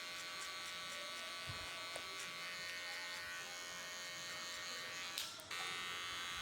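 Electric hair clipper buzzes steadily with a close, even drone while doing a mid skin fade with guard number one, and a brief clatter near the end.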